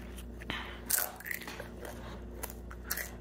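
Crisp crunching bites of chicken skin and chewing close to the ear, a few sharp crackles over a quiet room.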